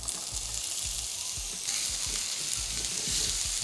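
Onions sizzle steadily in vegetable oil in a pan, a bright, continuous frying hiss with faint low knocks and shuffles, no voices.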